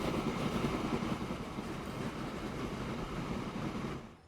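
A train in the transport simulation game Transport Fever 2 rumbles past in a steady dense roar with rolling rail noise, fading out abruptly at the end.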